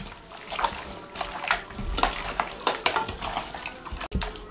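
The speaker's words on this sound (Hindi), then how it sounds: "अब इसको अच्छे से हम मिक्स कर लेंगे।" Chicken pieces being worked together with yogurt and masala marinade in a bowl, producing continuous wet squelching and soft slapping sounds with frequent splashy bursts, close up, with no talking.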